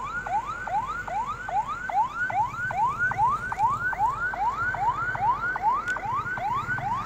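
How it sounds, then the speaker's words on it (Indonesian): An ambulance siren wails in a rapid, repeating rising whoop, loud and steady over low traffic rumble in hazy Kalimantan, Indonesia. "Ambulan bawa orang sakit."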